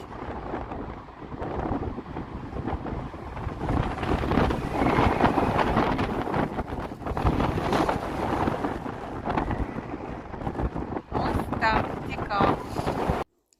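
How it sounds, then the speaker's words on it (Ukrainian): Wind howls through pipes on a bridge in Derry, Northern Ireland, a steady roaring rush with shrill whistling tones over about 13 seconds. Gusts buffet the microphone throughout, with no clear talk. "Я такого звукового ефекту від е, вітру з трубами ще не чула ніде"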